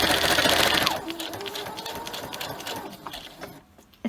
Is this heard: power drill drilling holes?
no